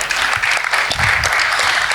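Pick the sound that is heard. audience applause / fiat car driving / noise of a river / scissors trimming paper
audience applause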